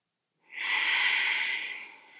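One long, slow breath pushed out through the nose and mouth during a yoga flow, a close, soft airy rush lasting over a second before fading, with no talking.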